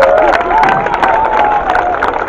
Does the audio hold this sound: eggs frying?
no